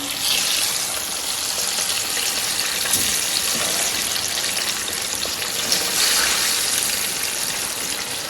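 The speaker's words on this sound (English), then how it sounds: "Let's fry our plantain." Plantain frying in coconut oil, a continuous loud crackling sizzle with a dense hiss that stays steady and close for several seconds, with no talking.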